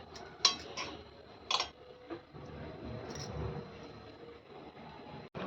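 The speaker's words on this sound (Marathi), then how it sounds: "तर आता मी छान ही भाजी पहिली मिक्स करून घेते" A spoon mixes spiced potato filling in a bowl, with a few sharp metallic clinks and soft scraping over a quiet background, close by and with no talk.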